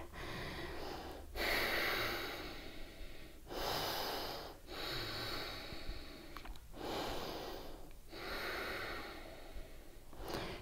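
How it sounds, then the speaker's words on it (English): Slow, deep breaths during a yoga session, each long airy inhale and exhale close to the microphone, repeating in a steady rhythm with short pauses between. "Again, breathing through the heart."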